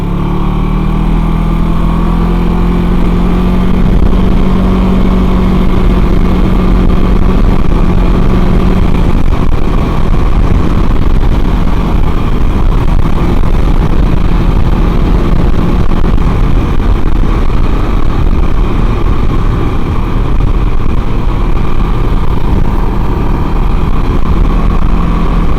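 A Can-Am Ryker three-wheeler cruises on a highway, its engine drone buried in loud, constant roaring wind noise that fills the whole stretch without letting up.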